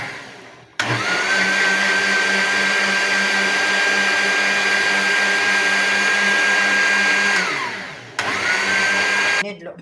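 A blender or electric hand mixer beats ghee and liquid cake ingredients for a savory cake, running loud and steady with a constant whine for about seven seconds, then winding down, pausing briefly and starting up again.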